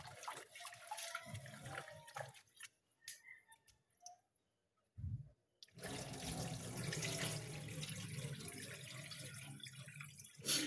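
A water tap is opened after a stretch of light clattering and near silence, then a steady, fairly loud rush of running water fills the rest of the clip.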